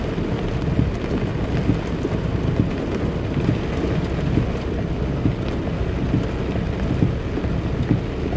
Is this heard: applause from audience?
no